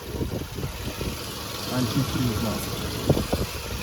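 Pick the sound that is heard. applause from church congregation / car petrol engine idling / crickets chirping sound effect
car petrol engine idling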